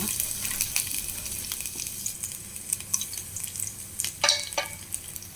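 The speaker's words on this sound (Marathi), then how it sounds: "आतां सोल काण दवरलें लसूण आतां घालता" Peeled garlic cloves frying in hot oil for a beetroot dish, a soft steady sizzle broken by scattered sharp pops and crackles, quiet and close with no voices.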